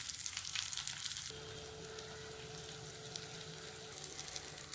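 Avoli (pomfret) fish shallow-frying in a pan, a steady soft sizzle and crackle of hot oil that carries on evenly throughout, with a faint hum running beneath.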